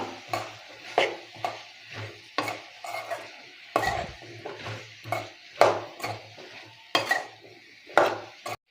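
Chayote being stirred into sambar gravy in a pan, with repeated scraping and wet stirring strokes in a steady rhythm, close and clear with a faint sizzle underneath.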